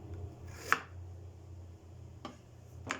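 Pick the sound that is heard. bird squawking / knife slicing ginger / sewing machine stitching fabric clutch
knife slicing ginger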